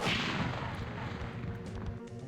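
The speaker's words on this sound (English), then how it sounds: "Meet our old friend, the bug cannons." Bug cannons fire in a horror video game, a series of dull heavy booms and thumps over a rumbling, noisy background, moderately loud with no speech.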